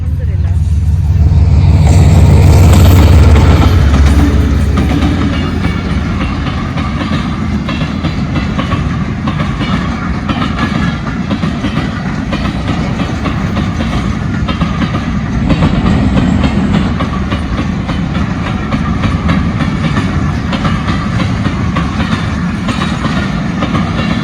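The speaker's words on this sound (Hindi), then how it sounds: "तो ट्रेन आ रही है, ट्रेन।" A train passes on a railway line near a level crossing, its loud rumble and rhythmic clickety-clack of wagons rolling steadily and close over the whole stretch, with a voice briefly heard over the noise.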